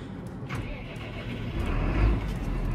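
A tractor engine on a dairy farm, started up and left running to warm on a drizzly day, makes a steady low rumble that swells toward the end.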